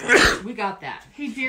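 One sharp, loud sneeze bursts out at the start, and then people in a casual group conversation keep talking over a lively background.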